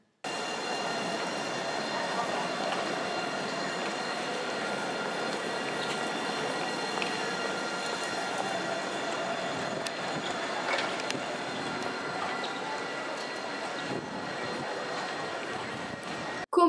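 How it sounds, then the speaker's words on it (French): Continuous rolling rumble of a tram on rails, steady and moderate, with faint metallic rattles and occasional clicks along the way. "Le tramway roule sur des rails, fixés au sol sur une plateforme."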